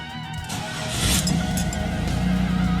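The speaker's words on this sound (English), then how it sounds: "The engine starts, and the security light goes off as it should." A 1998 Pontiac Firebird engine cranks and catches, then settles into a loud, steady idle with a rising rumble, close by and alone without talk.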